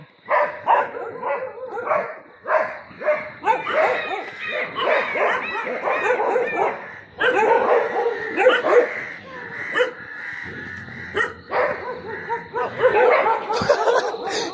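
Several neighborhood dogs bark and yip in a chasing pack at night near Doleshwar Mahadev in Nepal, loud and close throughout, with people talking over them.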